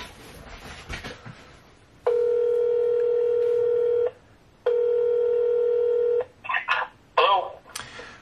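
Touch-tone keypad beeps from a phone dialing a local number: two long sustained tones separated by a short gap, followed by a few quick shorter tones, clear and close with no talking.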